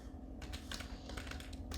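Keystrokes on a computer keyboard tap out in a quick, uneven run over a steady low hum, fairly quiet and close, with no talking.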